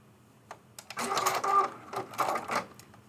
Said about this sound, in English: I am sewing my binding on with a 1/4 inch seam allowance.